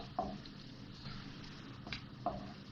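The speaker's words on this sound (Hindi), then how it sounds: "साबुत गरम मसाला डाल के मैंने थोड़ा सा फ्राई कर लिया।" Whole garam masala spices fry with onions in a pan for a restaurant-style vegetable biryani, a soft, low sizzle with a few faint stirring clinks close by.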